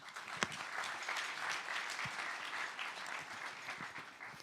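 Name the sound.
applause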